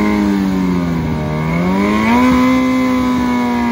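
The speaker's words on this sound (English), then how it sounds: "Victor Gauté, nice launch on that Gen 3 Suzuki Hayabusa" A Gen 3 Suzuki Hayabusa launches hard off the line at a drag race, its engine note loud and close, climbing steadily in pitch with a brief dip before pulling higher and holding a strong, sustained roar.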